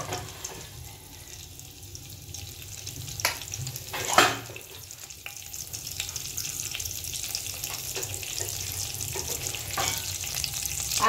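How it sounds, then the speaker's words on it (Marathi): Mustard seeds, cumin and curry leaves crackle and sizzle in hot oil for a stuffed-brinjal pickle tempering, a steady close-up hiss with scattered sharp pops and one louder burst midway, no talking. "फोडणी चांगली तडतड होऊन द्यायची आहे।"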